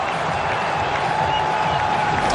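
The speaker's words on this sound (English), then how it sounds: "The crowd erupts." A cricket stadium crowd roars after a wicket falls, a loud, sustained wall of cheering and clapping that stays at full strength throughout.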